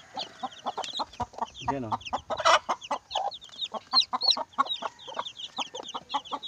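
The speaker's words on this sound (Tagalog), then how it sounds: "Mayroon pa ako pakita sa inyo ng mga sisiw." A crowd of chicks, Rhode Island and native chicken crosses in black and sorrel, peep and chirp busily and nonstop at close range, with a brief spoken word and a short low rustle partway through.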